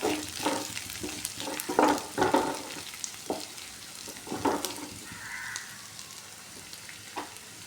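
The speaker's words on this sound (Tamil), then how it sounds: "மீடியம் ஃப்ளேமில் வச்சு வதக்குங்க" Ingredients sautéing in oil over a medium flame for sundakkai kara kuzhambu, with a gentle sizzle and irregular nearby spoon scrapes and stirring knocks, no voices.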